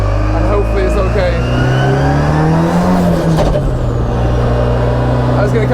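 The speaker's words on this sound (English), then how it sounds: "I was going to do a lap, kind of pulling through gears, see how the car's running" Corvette C6 or SR20-engined MX5 drift car engine revving loudly and continuously up close on its first test lap, pitch climbing and falling as it pulls through the gears, with a voice talking over it.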